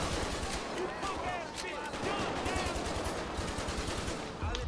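A heavy gang gunfight in GTA V, with rapid bursts of automatic fire and single shots crackling continuously at close range while someone talks excitedly over the shooting.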